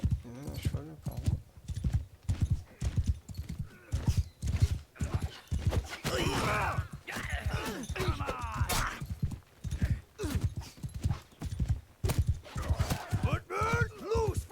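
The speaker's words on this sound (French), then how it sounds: "Ah, il y a même un cheval apparemment." Horse hooves clip-clop in a steady trotting rhythm throughout a Mount and Blade 2 Bannerlord battle scene, with occasional neighs; someone talks over much of it.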